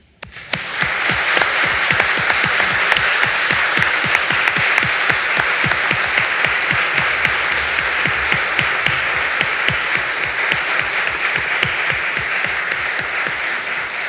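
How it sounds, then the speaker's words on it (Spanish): A loud, sustained burst of audience applause fills a lawyers' swearing-in ceremony at the Supreme Court, dense steady clapping continuing for about fourteen seconds with no voices over it. "Aplaudamos este logro."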